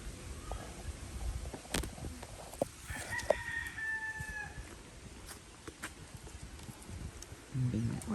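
A rooster crows clearly at a middle distance, one drawn-out call over windy outdoor rustling and scattered clicks in an orchid garden, with a brief low voice near the end.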